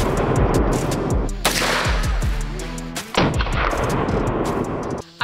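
Loud, close gunshots from a gun fired at a shooting target, several sharp reports with booming echoes rolling out between them, no talk.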